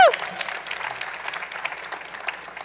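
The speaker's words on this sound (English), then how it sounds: "give yourselves a round of applause, please" A conference audience at an NFT art event in Basel applauds with dense, steady clapping and a cheer, moderately loud and continuous throughout.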